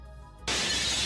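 A glass-shattering effect sounds in the Marvel Legendary card game: a quiet hum, then a sudden loud crash of breaking glass that rings on to the end.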